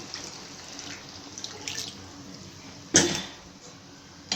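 Water is poured from a tap into a pot of washed chicken in a home kitchen, making short, close splashing gushes with a brief louder burst. A throat-clearing cough can be heard nearby.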